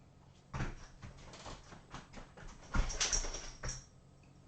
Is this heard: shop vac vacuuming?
no